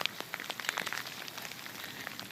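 Rain falling during an outdoor dog walk, a soft, even patter of drops with some closer taps, fairly quiet and steady throughout, no talking.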